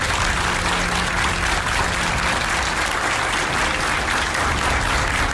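Sustained, dense applause from a crowd of protesters at a hospital discharge, loud and steady throughout with no talk standing out.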